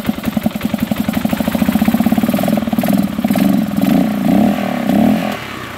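A small engine idles steadily just after a carburetor refit, its idle mixture screw not yet adjusted, with a close, even putter running throughout and slight rises and dips in speed.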